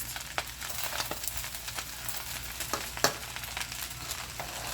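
Chicken fried rice with canned corn sizzles in a very hot wok, a steady frying hiss with scattered crackles and pops, plus a louder spit near the middle, close by.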